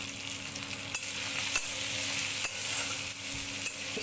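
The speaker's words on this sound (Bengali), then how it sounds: "মশলাগুলি হালকা ফ্রাই করলেই হবে।" Chopped garlic with salt and turmeric frying lightly in a pan, a steady close sizzle with occasional sharp taps and scrapes of a stirring utensil, no voices.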